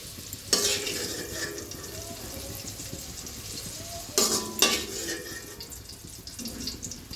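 Pointed gourd (potol) frying in a covered pan on a stove for a vegetarian potato-potol dish, a steady soft sizzle with a few brief louder clatters of utensils or lid, no voices.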